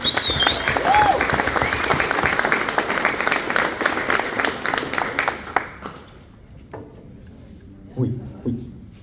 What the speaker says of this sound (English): Can we have a round of applause for our producer, please?